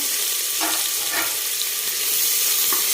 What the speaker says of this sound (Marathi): तेल छान गरम झाल्यानंतर एक मोठ्या साईजचा कांदा बारीक चिरून घेतलाय, तो आपण टाकू.